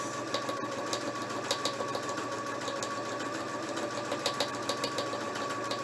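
A sewing machine stitching steadily, with a fast, even mechanical whir and regular ticking close up, running without pause and with no talking.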